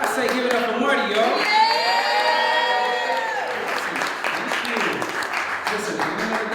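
Live show audience at an open-mic night clapping and cheering for a performer, a steady burst of applause with whoops, while a host talks over it throughout.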